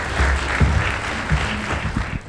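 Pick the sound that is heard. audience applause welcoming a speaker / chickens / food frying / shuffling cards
audience applause welcoming a speaker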